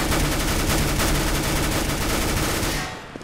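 Sustained automatic gunfire in Counter-Strike: Global Offensive, a loud dense stream of rapid shots running for about three seconds before stopping abruptly, as if the magazine has emptied.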